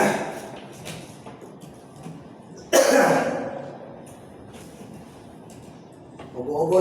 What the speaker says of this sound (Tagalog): Ubo-ubo lang tayo mga idol